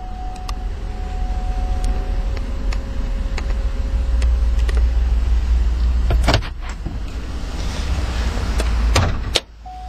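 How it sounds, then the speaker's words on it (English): Power windows on a 2011 Chevrolet Tahoe LTZ run down inside the cabin, a steady whir over low interior rumble with a few clicks and a brief thump near the end, no talking. "Both the driver and passenger windows are automatic down."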